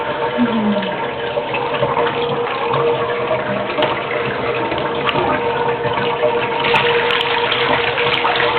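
Water from a tap runs in a steady, loud rush while a young puppy is rinsed during its first bath. A faint squeak rises above the flow near the start.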